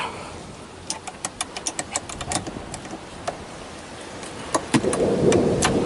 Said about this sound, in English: Thunder. Now it's gonna start raining.